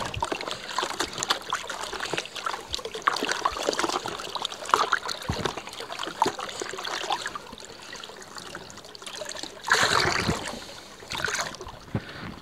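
Water trickles and splashes irregularly as koi pond filter media is rinsed in a bucket, with close sloshing and dribbling and a louder splashing burst near the end.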